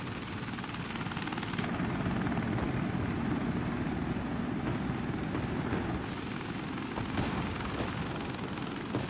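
A helicopter in the video game WARDOGS gives a loud, steady rotor and engine roar that holds throughout.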